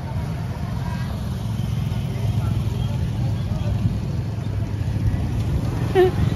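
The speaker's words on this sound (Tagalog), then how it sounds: "Look at all the tricycle." Motorized tricycles moving through street traffic in Tacurong City, Philippines, a steady low engine rumble and road noise running throughout at close range, with a faint voice near the end.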